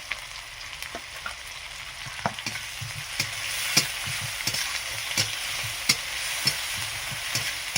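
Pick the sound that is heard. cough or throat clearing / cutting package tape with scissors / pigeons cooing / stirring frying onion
stirring frying onion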